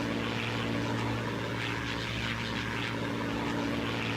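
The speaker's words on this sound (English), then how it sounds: "Lancaster's just flown off from behind the crowd there, and off goes the Hurricane" An Avro Lancaster bomber with Rolls-Royce Merlin engines drones past at an air show, a steady, loud multi-engine propeller hum with a deep throbbing tone and no voices.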